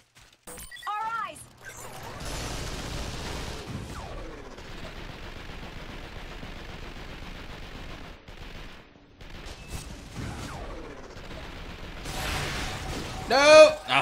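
Rapid turret gunfire in the video game Vanquish, sustained bursts of mechanical shooting running through most of the stretch with sharper impacts and louder blasts near the end; someone talks over parts of it.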